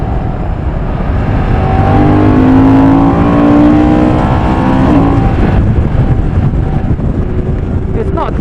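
A Moto Guzzi Mandello V100 S motorcycle accelerating hard, its engine note climbing steadily under heavy, constant wind rush for about eight seconds, loud and close with no talking.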